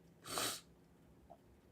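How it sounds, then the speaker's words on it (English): One short, sharp nasal sniffle, close and soft, followed by a faint small sound and quiet room tone. "That sniffle is canon."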